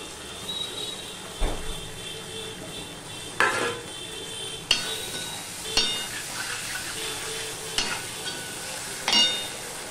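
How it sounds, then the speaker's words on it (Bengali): Chilli chicken being stirred in a pan after tomato, soy and chilli sauces go in, giving a soft steady sizzle with a few sharp scrapes and clinks of the spoon against the pan. "সস দিয়ে একটু নেড়ে দিয়েছি"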